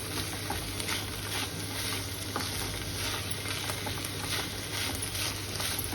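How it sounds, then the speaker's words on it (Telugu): A pan of pansapottu curry topped with fried vadiyalu is stirred over the stove, giving a steady, close sizzle with soft scraping stir sounds running through the whole stretch. "దీని మీద కూర వడియాలు వేసేసుకుందాము. ఇది కూడా ఒకసారి కలుపుకుందాం."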